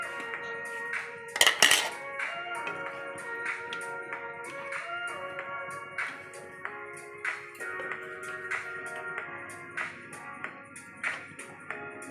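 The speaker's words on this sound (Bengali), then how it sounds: "এবার আমাকে প্লিজ নাড়তে দাও, আমি নাড়বো।" A spoon stirs shukto, a Bengali mixed-vegetable dish, in a pot, giving scattered light metallic taps and scrapes over a steady musical background.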